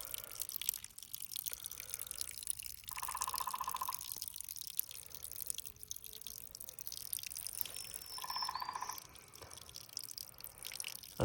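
Spring water flowing and dripping outdoors on a mossy springtime walk, a faint, continuous trickle with soft, irregular drips and a few brief tonal gurgles.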